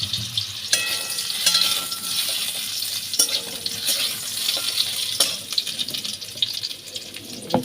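Potatoes fry in a pan while being stirred, a close, continuous sizzle with watery hiss and occasional clatter from the stirring, steady and without talk.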